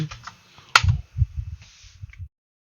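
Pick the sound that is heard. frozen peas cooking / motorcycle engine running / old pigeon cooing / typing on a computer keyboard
typing on a computer keyboard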